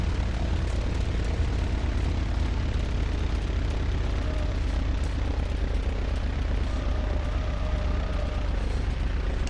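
Bonanza propeller airplane in a flight simulator, engine running at a steady drone with a constant low rumble throughout as it begins its takeoff roll.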